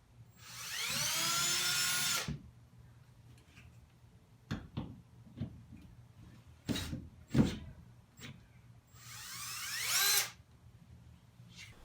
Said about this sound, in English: Drill some holes and screw it in.